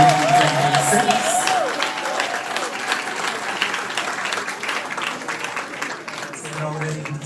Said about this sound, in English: a round of applause for graduating class of